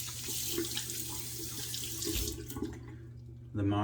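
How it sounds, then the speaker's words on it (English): Cold water runs steadily from a bathroom tap into a sink for a post-shave rinse, a continuous close splashing stream that cuts off near the end, followed by a brief burst of other sound. "I'm gonna do a cold water rinse"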